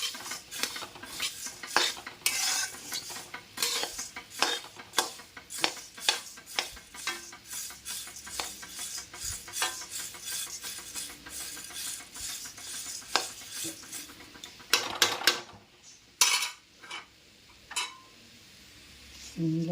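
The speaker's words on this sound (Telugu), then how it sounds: "ముందుగా ధనియాలు వేపేస్తున్నాను." Coriander seeds frying in oil in a pan for idli karam podi, with a spoon scraping and clinking against the metal in frequent irregular strokes over a faint sizzle, loud and close.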